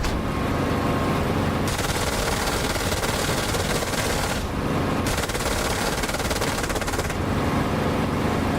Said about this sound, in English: They are giving return fire.